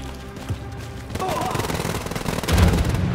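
Rapid bursts of gunfire from the video game Wolfenstein: Youngblood, growing denser and louder toward the end, with a player talking over the shooting.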